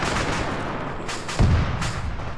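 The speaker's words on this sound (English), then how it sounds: "Throw one grenade at that tree" A grenade goes off in Arma 3 as a single deep blast about midway, rising over a steady noisy battlefield background.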